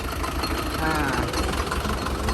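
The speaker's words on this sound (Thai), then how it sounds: "เครื่องยนต์ติดนะครับ" A used Euro 55-horsepower tractor engine runs steadily at a rough, knocking idle, loud and close, with a voice faintly audible over it.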